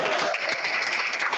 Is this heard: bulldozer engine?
no